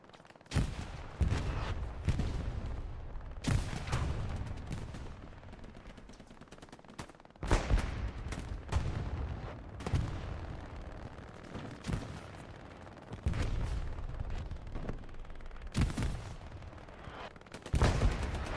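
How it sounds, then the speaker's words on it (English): Gunfire and rockets in a Hell Let Loose night battle at Foy: repeated bursts of machine-gun and rifle fire with heavy booming impacts, some near and loud, others distant, spread across a back-and-forth fight. "Rockets sailing over."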